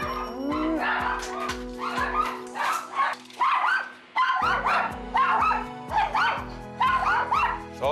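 Several poodles and Maltese dogs bark and yip excitedly at a doorbell in rapid bursts, close and loud, with whimpers mixed in and a steady electronic hum underneath.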